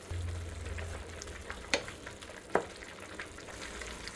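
Keema frying in a pan as it is stirred, a soft steady sizzle with two sharp scrapes of a utensil against the pan, quiet and close.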